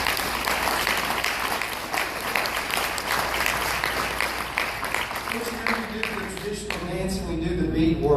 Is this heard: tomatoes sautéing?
no